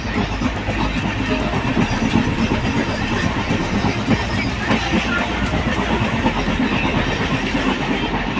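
A train rolls along the rails with a loud, steady rumble and faint rhythmic clicking, close by and continuous throughout, with no talking.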